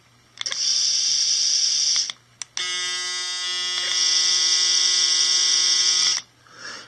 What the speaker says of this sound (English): This Braun shaver is excellent. That's the noise there.